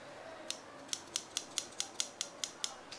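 Scissors snipping through the cardboard and plastic packaging of a Kracie Popin' Cookin' Tanoshii Ramen DIY snack kit, about a dozen crisp, evenly spaced cuts close up in a quiet room.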